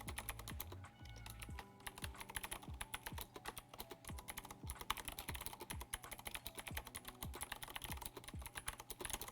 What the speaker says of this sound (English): I'm going to do a little typing test just so that you guys can hear this at work.